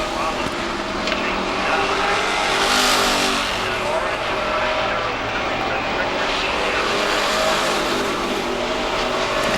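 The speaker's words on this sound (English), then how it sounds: "Not many people can hold off Grant like that" Race cars circling a short oval track at a New England racing event, a loud continuous roar of engines passing close with a surge in the middle, under an announcer's commentary.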